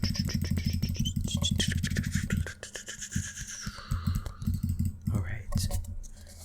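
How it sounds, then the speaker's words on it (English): Rapid dry clicking sounds come in dense bursts, then scattered individual clicks and light scraping follow, close and fairly quiet, with no talking. "clicking noises."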